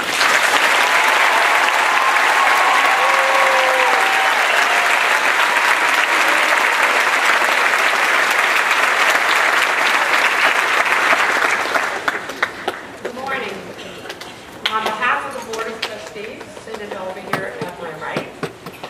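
Commencement audience applauding the graduating class of 2013, a loud, sustained roar of clapping from a large crowd for about twelve seconds, then fading into scattered claps and murmuring voices.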